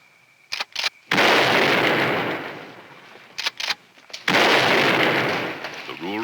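Gunshots fired at a sheriff's officer at a front porch, with several sharp close cracks in quick pairs followed by long noisy reverberating bursts, loud and harsh amid a chaotic scene.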